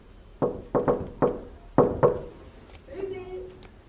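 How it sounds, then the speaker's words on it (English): Knuckles rap on a hotel room door in two quick groups of firm knocks, close and clear, followed by a muffled voice from behind the door. "So, let's go now. Knock on Katherine's door."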